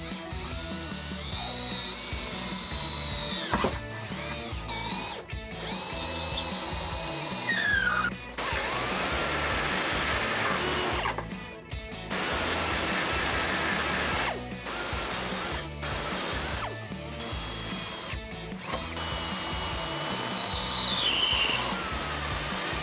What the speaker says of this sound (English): I'm going to start off with a 3/16 drill bit and then step my way up